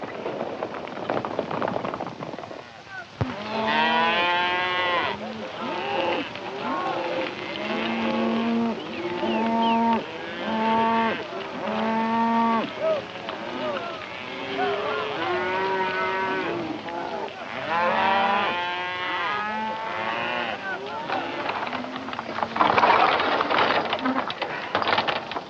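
A herd of cattle mooing loudly and almost continuously, many long, overlapping calls from several animals close by.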